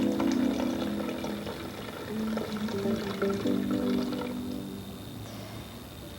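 Mineral water poured into a paper-filter drip coffee maker, a steady filling trickle with a rising tone, close and moderately quiet, tapering off near the end.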